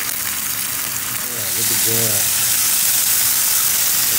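Meat frying in a pan on a stove with steady broadband sizzle that grows louder partway through, while a person talks briefly near the start.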